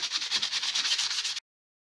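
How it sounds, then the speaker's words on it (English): Shiny cardboard packaging gets its surface roughed up, giving a brisk, dry rubbing scuff of quick strokes up close that cuts off abruptly after about a second and a half. "So I'm just going to rough up the surfaces just a little bit."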